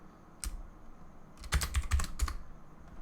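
A single keystroke followed by a quick burst of several clicks on a computer keyboard, close and clear against a quiet hum, with no talking.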